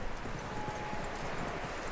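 Horse hooves clip-clop steadily and close in Red Dead Redemption 2, a brisk rhythmic patter of footfalls over a continuous ambient bed of game sound.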